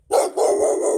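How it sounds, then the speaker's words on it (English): Neighbour dogs barking outdoors near a 1983 Oldsmobile, a loud close burst of barks followed by sustained continuous barking filling the second, with no talk over it. "How about the dogs barking?"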